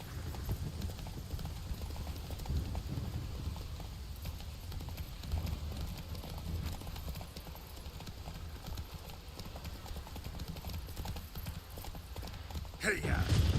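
Hooves of the horse in The Witcher 3 video game pound in a steady galloping clip-clop throughout, with a voice talking over the game audio.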